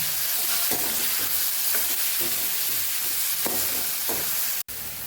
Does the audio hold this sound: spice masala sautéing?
yes